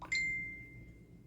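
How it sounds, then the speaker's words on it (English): A single bright electronic ding from a Kospet Tank X1 smartband announces a Messenger call, a short clear tone that rings out and fades over a second in a quiet room. "We have a notification."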